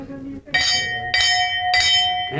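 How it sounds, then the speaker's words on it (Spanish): An old hand bell is struck three times in steady succession, each blow ringing out bright and sustained, loud and close, after a brief voice at the start. "Toca la campana, Ignacio, para que veáis que funcionaba."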